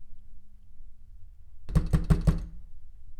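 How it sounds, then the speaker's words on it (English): Four quick, solid knocks on a door in an even rhythm, fairly close and loud, following a few seconds of quiet room hum. "Somebody knocked on my door."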